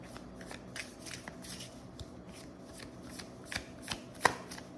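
Tarot cards being shuffled by hand, a soft riffling flutter with light taps and snaps of the deck, quiet and close, continuing for several seconds without speech.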